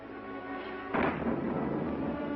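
A sudden low rumble of thunder breaks in over a quiet hum and rolls on, deep and sustained.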